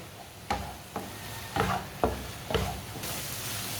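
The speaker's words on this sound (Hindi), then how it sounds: "अंडों को डाल के ना 3-4 मिनट के लिए पका लेना अच्छी तरह मिक्स करके" Eggs and tomatoes frying in a pan while a spoon stirs them, giving five or six distinct scraping strokes at a steady pace over a continuous soft sizzle, close up with no talking.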